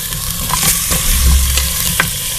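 Garlic sizzles and fries in a pot for mutton kunna, a loud, close crackle with scraping stirs of a spoon cutting through the steady hiss, no talk.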